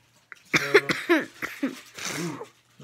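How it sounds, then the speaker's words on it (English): A woman with a cold coughs several times in a row during a blind bag opening, each close, harsh and raspy burst followed by a brief pause, in an otherwise quiet room. "Sorry that I'm coughing"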